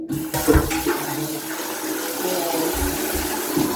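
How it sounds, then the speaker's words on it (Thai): A modern toilet in a public restroom flushes with a loud rushing, gurgling swirl of water that starts abruptly and continues steadily, close to the listener. "ปล่อยน้ำลง ชักโครกเองด้วย ทันสมัยมาก"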